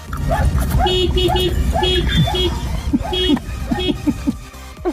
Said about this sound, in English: they saw this little dog barking and honking at its owner to hurry up